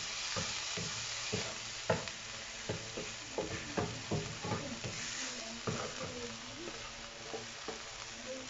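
A dynamite snack deep-frying in hot oil, a steady sizzle under frequent clinks and scrapes of a utensil stirring and turning the pieces in the pan.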